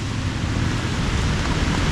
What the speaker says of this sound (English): I was thinking, this looks like real rain now.